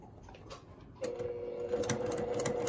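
A Brother PQ 1500 SL sewing machine starts stitching a quilt seam about a second in, its steady whirring hum running on with a few light clicks.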